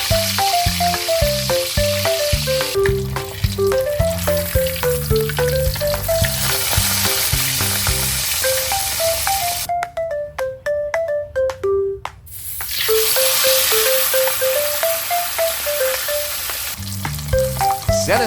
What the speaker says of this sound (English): Fry fish seasoned with salt pepper.